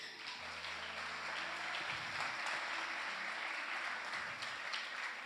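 An audience claps together at a talk on friendship, steady applause that fills the whole stretch at a moderate distance, without speech over it.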